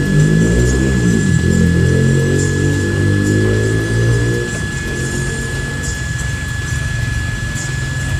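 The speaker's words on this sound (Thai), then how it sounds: "อันแรกนี่เราก็ ปล่อยลมเข้าแบบตรงๆเลย ครับจากตัวปั๊มลมเข้าที่นอน" An electric air pump blows straight into an inflatable air mattress with a loud, steady droning whir and a constant high whine; the pitch shifts and drops slightly partway through as the mattress fills.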